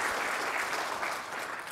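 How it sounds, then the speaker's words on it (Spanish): An audience applauds at an institutional evaluation event, a dense, even wash of clapping that fades slightly toward the end. "también un aplauso a esta breve pieza que dice mucho"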